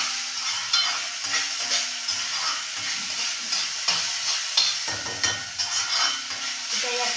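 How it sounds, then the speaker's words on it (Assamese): Flattened rice (chira) frying in a pan while a spatula stirs it, a steady sizzle broken by repeated scraping scoops against the metal, close and clear. "চিৰাখিনি ভাজি"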